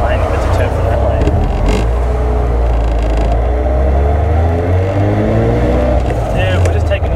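Turbocharged 13B rotary engine in a Mazda RX3 driving along a city road, a loud, deep, steady drone with a rising and falling pitch as it cruises, while people talk in the cabin.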